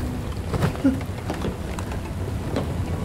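Steady rainfall in the video game Bright Memory Infinite, a dense hiss of falling rain with a few soft spattering accents, continuous at moderate level with no talk.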